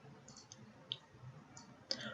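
A few faint, crisp mouse clicks tick out one at a time against a quiet room background.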